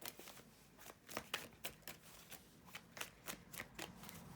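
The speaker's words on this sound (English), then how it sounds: "I'm just going to give this card deck a quick shuffle." A tarot deck being shuffled during a reading, a quick run of crisp riffling card snaps in an uneven rhythm, close and quiet with no voices.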